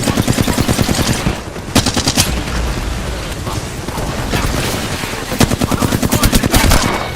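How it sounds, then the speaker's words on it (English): Rapid automatic gunfire in the video game Apex Legends, loud bursts of close shots in quick rhythmic volleys with pauses between, some heavier thuds, under occasional talk. "They're shooting us."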